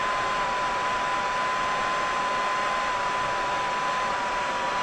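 Heat gun warming a fishing jig for powder painting, blowing a steady, even hiss of hot air with a thin constant tone, close up and continuous throughout.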